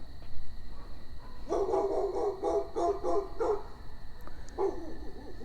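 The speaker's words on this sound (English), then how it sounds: "those neighbor dogs actually make my neighbor's dog not seem so bad" Neighbouring dogs bark from some distance on a quiet evening at a rural cabin, a burst of rapid yelping barks followed by a brief pause and one more short bark, heard against a steady insect hum.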